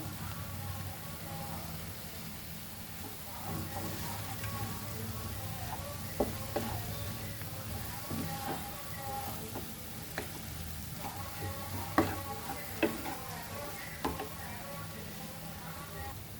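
Spices and dal masala powder frying in a pan for chana masala, a quiet steady sizzle with scattered light clicks and knocks of stirring, faint and close.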